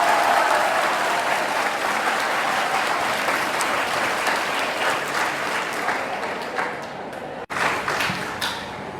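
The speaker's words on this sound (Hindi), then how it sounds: "तालियां कमजोर है मेरे बच्चों की।" Children clapping together as a crowd at a police awareness talk on drunk driving and parking, a steady sustained round of applause that fades toward the end, heard alone without talk.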